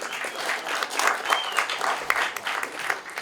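An audience claps steadily through a question-and-answer session after a film screening at a festival, the applause dense and fairly close, with a voice briefly speaking over it.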